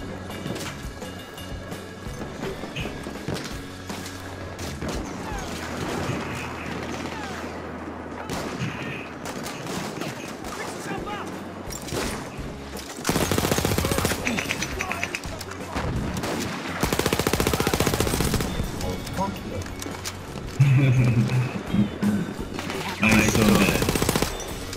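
Automatico M1918 submachine gun fire in the World War I shooter Battlefield 1, loud bursts of automatic fire breaking out in several dense stretches over game music and battlefield ambience.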